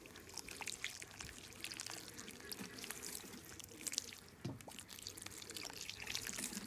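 Water trickles and pours steadily into the soil of a potted plant, a soft continuous splashing with occasional drips, close by and fairly quiet.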